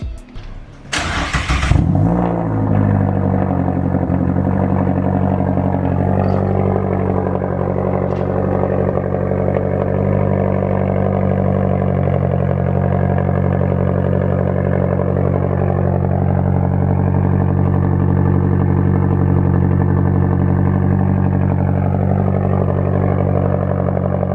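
A turbocharged 2016 Mazda MX-5 engine with a 3-inch exhaust cranks and fires up with a sharp burst, then settles into a loud, steady, deep exhaust rumble with slight swells.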